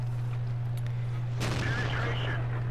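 A tank gun firing in World of Tanks, one sharp loud blast with a booming tail over a steady low engine hum, a faint voice heard earlier.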